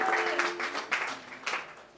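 A church congregation applauds to praise the Lord, a dense wash of clapping over a sustained sung or spoken tone, steady and fairly loud for about two seconds.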